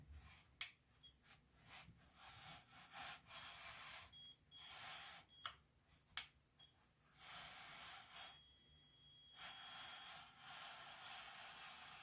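Electronic stud finder sliding along a closet wall, giving a few short high beeps and then one steady, sustained tone lasting about two seconds, fairly faint amid light rustling.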